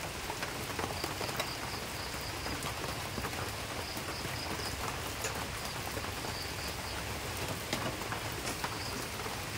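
Heavy rain pours down steadily over farm fields, a dense, loud, unbroken hiss with scattered drops striking surfaces nearby.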